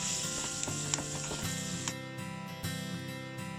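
Lightly browned onion being mashed in hot oil for a Bangladeshi rohu fish curry with potol gives off a steady close sizzle, with scraping and clicking from the utensil pressing against the pan. No one speaks.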